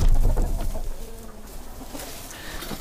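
Broody hens cluck and coo steadily inside a coop, loud and close, with other bird noises over a dense rumbling background and no talk.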